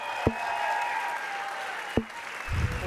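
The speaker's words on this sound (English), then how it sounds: "Huge round of applause to everybody stepped up at the 500." A crowd at a charity auction gala for colorectal cancer research applauds in a steady wash. Two sharp thumps cut through it, and a low rumble enters near the end.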